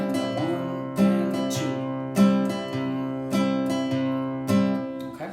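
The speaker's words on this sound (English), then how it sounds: "You're going to play that bass note, and then you're going to strum the rest of the strings in a down strum" Acoustic guitar played country style, each bass note followed by a downward strum across the remaining strings, repeating in a steady alternating pulse with ringing chords and no talking.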